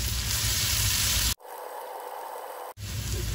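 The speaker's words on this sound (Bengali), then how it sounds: "আমি পেঁয়াজটাকে প্রায় 2 মিনিটের মতো ভেজে নিয়েছি" Chopped onions sizzle and fry steadily in a pan on high heat, a loud, dense crackling hiss that briefly drops away mid-clip before resuming.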